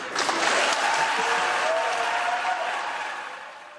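A burst of applause from a crowd after a U.S. Senate confirmation vote, steady clapping that swells quickly and then slowly fades toward the end.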